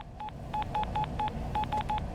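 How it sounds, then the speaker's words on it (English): Old-school touch-tone phone keys beep in WWE '12, eight short, evenly spaced dial tones in two quick groups over a low background hum. "that is an old school touch phone right there"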